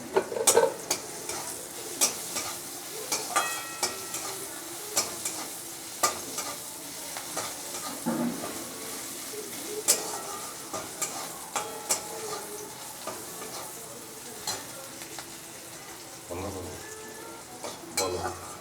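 Onions frying in oil in a kadai for chow mein, a steady sizzle under repeated scraping and stirring clatter of a spatula against the pan throughout.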